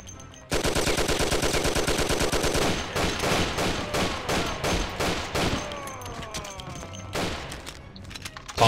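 Sustained automatic gunfire from the Mafia video game, a rapid loud fusillade for the first few seconds, then scattered bursts and single shots with ringing echoes and falling shell clinks, ending in a close boom.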